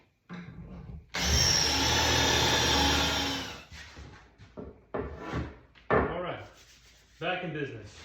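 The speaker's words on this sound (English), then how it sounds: "I'll have to re-drill it" A power drill re-bores dowel holes in wood for a walnut and padauk desk, one loud sustained burst of about two and a half seconds, followed by quieter knocks and handling noises, with someone talking.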